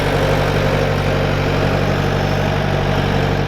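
A Bobcat machine's engine idles steadily and loudly close by, a constant mid-to-low rumble with a few harmonic tones and no pauses or voices.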